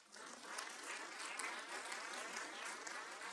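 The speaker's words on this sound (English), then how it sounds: "And a round of applause again." Sustained applause from the audience at a Sheffield City full council annual meeting, dense and steady for the whole stretch, heard from a middle distance with no voices over it.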